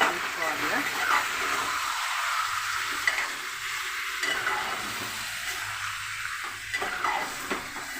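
Chicken curry being stirred and mixed in a pan, a continuous soft scraping and sizzling hiss with small clinks of the spoon against the pan.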